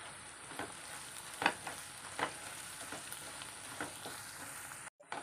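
Curry leaves sizzling in hot oil with crushed garlic and ginger for a fish pickle, a steady fry crackle close by with sharper pops every half second or so.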